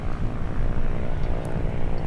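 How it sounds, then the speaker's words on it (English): An Embraer Legacy 500 business jet on short final into Long Beach Airport gives a steady, loud low-frequency engine roar that holds evenly throughout, with no voices over it. "An Embraer Legacy 500 on short final."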